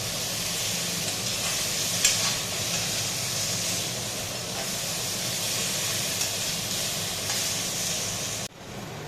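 Pointed gourd (potol) pieces half-fry in a pan for a sarsari dish, giving a continuous, even hiss and sizzle close up. Light stirring runs underneath, and it drops off abruptly just before the end.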